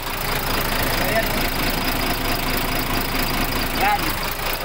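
A newly overhauled diesel engine runs steadily right after starting, with a loud, continuous idle and some knocking texture. It stays close and constant throughout, and people talk over it.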